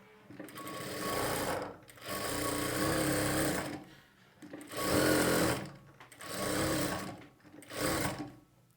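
A sewing machine stitches the lining onto a blouse in five separate runs of steady whirring, each stopping briefly before the next starts, loud and close with no talk.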